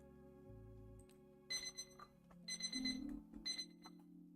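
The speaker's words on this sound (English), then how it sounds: "There goes my alarm." An alarm clock goes off with repeated electronic beeping bursts in a steady on-off rhythm, fairly quiet and alone with no talking.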